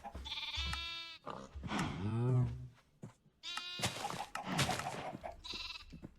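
Sheep in the Minecraft FTB Skies modpack bleat several times in quick succession, loud and close, with short gaps between the calls and a brief break midway.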